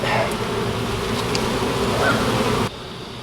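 Honey bees buzz in a colony during a hive inspection among comb and propolis, a dense, continuous close drone that holds steady throughout and softens slightly near the end, with no voices.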